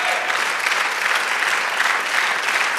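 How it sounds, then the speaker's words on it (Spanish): Church congregation applauding during a sermon, a loud, dense and continuous roar of many clapping hands that holds steady throughout. "da el aplauso al Señor"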